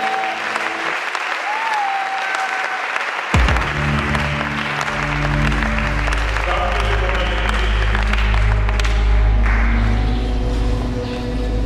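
A church congregation bursts into loud, sustained applause and acclaim after a near-silent opening, with clapping and cheering swelling through the room and continuing under a low musical drone.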